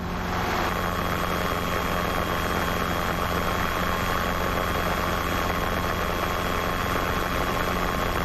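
A Robinson R22 helicopter in flight with a student pilot during a mock check ride near Princeton: steady, loud, unbroken engine and rotor drone filling the cabin, with a constant whine on top.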